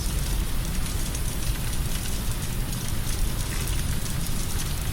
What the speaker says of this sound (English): dumping torrential rain across the Everglades